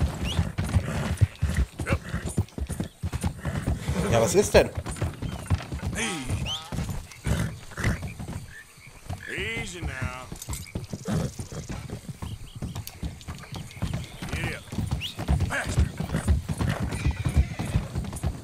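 Horse hooves clip-clop with repeated neighing and whinnies in Red Dead Redemption 2, the animal close and loud across the stretch while people talk over it.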